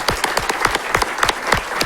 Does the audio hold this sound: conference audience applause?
yes